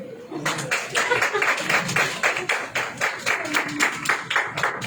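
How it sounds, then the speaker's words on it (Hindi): People at a church youth meeting clap for themselves in a steady, fairly quick rhythm of many hands together, close and moderately loud, with a few voices underneath. "जो समय पे आया है वो अपने लिए ताली बजाए।"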